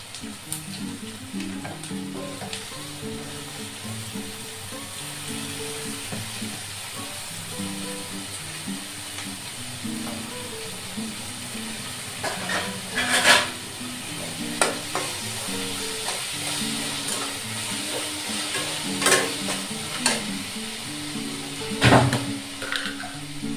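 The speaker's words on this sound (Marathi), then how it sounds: "चांगलं परतून घेऊ आता" Chopped tomatoes sizzle and fry in a hot pan for a vegetable sabzi, a steady loud crackle broken by occasional scraping stirs and clinks of the spoon.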